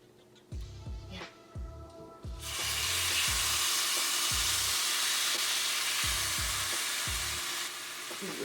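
Marinated steak lands in a hot pan and breaks into a loud, steady sizzle that carries on without a break. Low thumps and soft knocks come before the sear begins.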